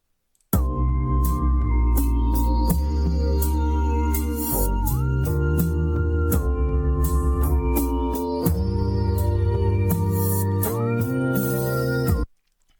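A music sample slowed down considerably and pitched up three semitones plays as an eight-bar loop, a thick sustained melodic texture with steady rhythmic pulses, loud and continuous from start to a sudden stop.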